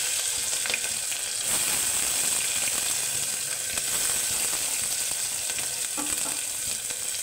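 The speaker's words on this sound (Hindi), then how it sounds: "मेरा तेल गर्म हो चुका है और मैं इसमें डालूँगी जीरा, जीरा के साथ साथ डालूंगा लहसुन और लहसुन के पत्ते।" Cumin, garlic and garlic leaves hit hot oil for a masoor dal and give a loud, continuous sizzle that stays close and steady throughout, with no talking.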